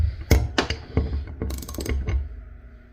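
A 17mm wrench tightening a bolt on a GSX bowling pinsetter, giving a short run of sharp metallic clicks and ratcheting taps, close up, irregular over a few seconds with no talk.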